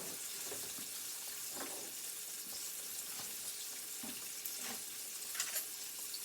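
Bones frying in a pan, a quiet continuous sizzle with scattered crackles and pops, heard alone at close range.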